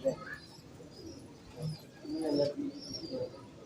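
Soft, low pigeon cooing in a few short murmuring bursts, fairly close, with faint bird chirps and background noise.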